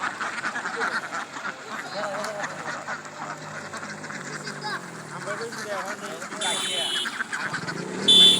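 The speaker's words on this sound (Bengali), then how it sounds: "আমি পুরো হাঁসটা আপনাদেরকে দেখিয়ে দিচ্ছি" A flock of ducks quacks continuously on a duck farm, a busy mass of calls at moderate distance, with people talking over the flock throughout.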